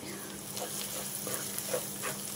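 Salt, chili powder and ginger-garlic paste frying in oil in a pan, giving a steady, moderate sizzle with faint crackles and no talking.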